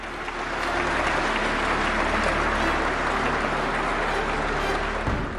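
Sustained applause fills Rashtrapati Bhavan's Darbar Hall at a Padma Shri award ceremony, a dense steady roar of many hands clapping throughout before it tapers at the very end.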